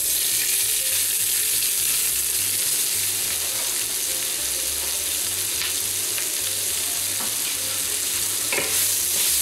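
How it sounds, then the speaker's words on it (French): Onions for a lamb rogan josh curry sizzle steadily in a hot pan after the meat is removed, with loud continuous frying hiss and occasional scrapes and clacks as they are stirred. "j'ajoute dans le plat maintenant les oignons"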